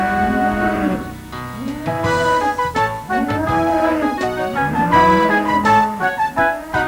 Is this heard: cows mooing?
yes